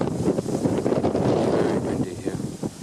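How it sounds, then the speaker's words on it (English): Strong wind buffets the microphone beside a church tower next to a field of sheep, a loud, continuous rumbling roar with gusty swells throughout. "Very windy here."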